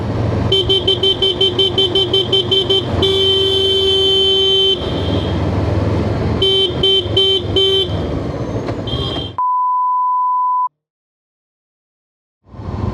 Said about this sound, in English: So this traffic jam is caused by end of school.